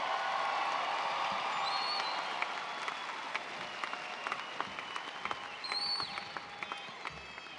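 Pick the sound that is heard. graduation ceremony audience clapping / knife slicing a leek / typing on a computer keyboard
graduation ceremony audience clapping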